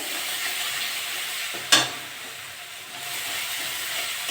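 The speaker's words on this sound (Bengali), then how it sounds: "ভালো করে কষে নেবো মশলাটা। দেখুন তেল ছেড়ে গেছে" Masala spice paste sizzles steadily in oil for mochar dhoka, with a single sharp scrape of stirring partway through and a continuous near frying hiss before and after.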